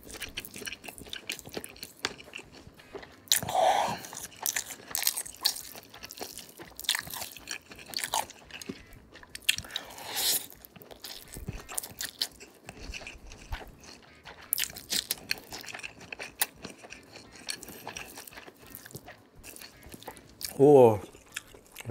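Close, crisp bites and wet chewing on stir-fried cocktail sausage in a fiery mercon spice seasoning come in irregular bursts, with a louder crunch near the end.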